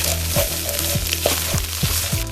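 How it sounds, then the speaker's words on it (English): Pork fried rice with egg is stirred and scraped in a hot pot, giving a continuous sizzle broken by repeated scraping strokes about every half second. "keep stirring it around till it's nice and hot, and you get all that egg in there, mixed in with the rice"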